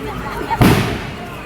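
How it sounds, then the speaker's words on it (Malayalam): Festival fireworks at a temple Thalappoli celebration in Kerala, with one loud close burst cracking over a background of crowd murmur. "വെടിക്കെട്ട് തുടങ്ങിയിട്ടോ അങ്ങനെ അടിപൊളിയായിട്ടുണ്ട് വെടിക്കെട്ട് കേട്ടോ"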